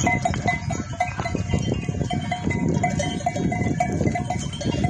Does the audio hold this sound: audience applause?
no